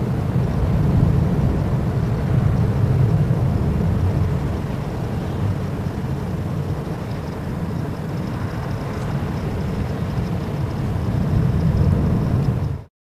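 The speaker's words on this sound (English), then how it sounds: "As the A321 began its takeoff in Portugal, strong crosswinds nearly threw it off course." Airbus A321 taking off in Portugal in strong crosswinds, a steady loud broadband roar of engines and wind rumble holding for about twelve seconds before cutting off abruptly.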